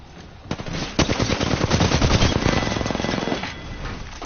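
Rapid automatic gunfire in a video game shootout, dense bursts of close, loud shots rattling without pause for several seconds before easing off.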